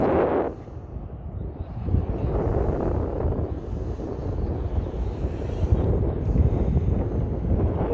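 Steady wind buffeting the microphone in a park in winter, a continuous low rumbling roar outdoors with no talking.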